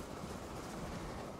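A meat cargo train rolls into a station in Transport Fever 2, a steady, muffled rumble of rail wagons at a constant moderate level, brief and uninterrupted, with no talking.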